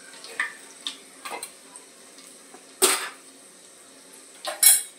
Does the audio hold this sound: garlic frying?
yes